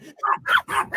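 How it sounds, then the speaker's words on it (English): Dogs bark close and loud in a quick run of three or four yapping barks, heard on their own without talking. "My dogs are barking"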